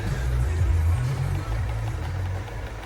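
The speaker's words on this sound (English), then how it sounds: "Engine sounds nice and sweet" A low, steady engine idle rumbles close by, with a slight wobble in pitch and no talking.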